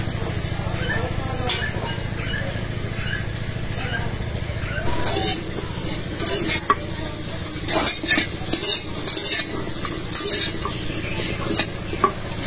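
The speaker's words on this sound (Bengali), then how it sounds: "এখন শুটকি মাছ ভাজার জন্য কড়াই বসাই দিই" Dried surma shutki fish frying in a hot wok, with a quieter start and then a louder, steady sizzle and crackle, punctuated by occasional clinks of a spoon against the pan.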